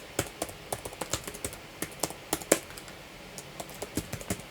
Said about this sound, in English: So I'm just going to write that down in the text file as well.